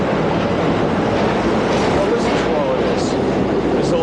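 A subway train rumbles steadily and loudly through the underground with a continuous roar and faint squeals overhead, a noisy, busy station setting with no break in the din.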